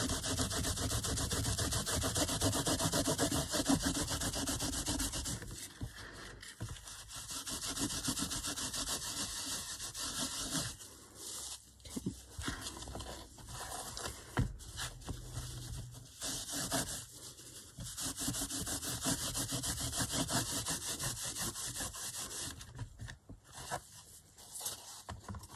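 Steady rubbing and scraping of a wet wipe over a painted cover coated in crackle paste, continuous and close, with brief pauses between strokes and no talking.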